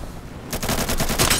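Rapid automatic gunfire in the video game Insurgency: a sudden burst of about eight sharp, loud, evenly spaced shots after a quieter moment.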